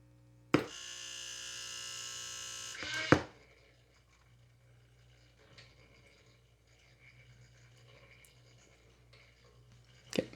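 A Saba 300 Auto radio's motor-driven tuning runs for a couple of seconds as a buzzing, humming drone. Sharp clicks and thumps bracket it, then faint static crackle and mains hum follow, ending in another click.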